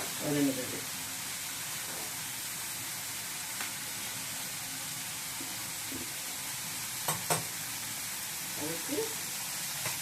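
Onions sautéing in a pan for an egg stir-fry, a continuous soft sizzle with occasional clinks and scrapes of stirring, and brief speech near the start and end.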